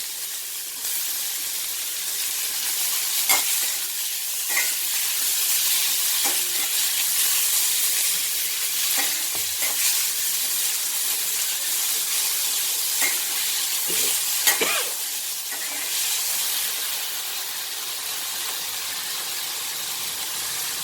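Tomatoes, onion, curry leaves and coriander sautéing in a pan for spicy kuzhi paniyaram batter, a steady loud sizzle with occasional stirring scrapes and no talk.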